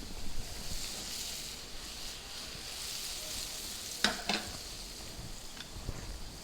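Scallops sear in a hot pan with garlic butter, giving a steady close sizzle with a couple of sharp crackling pops partway through.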